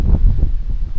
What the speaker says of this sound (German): Der Wind drückt jetzt hier richtig schön in die Bucht rein.